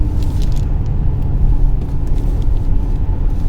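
A Mercedes GLS 580 driving under hard acceleration, its engine giving a steady, loud low rumble that holds throughout, with no talk over it.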